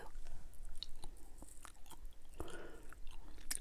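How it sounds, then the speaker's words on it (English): Gum being chewed close up in an ASMR setting, giving soft wet smacking and crunchy mouth sounds that repeat irregularly, with no talk. "but first let me chew my gum."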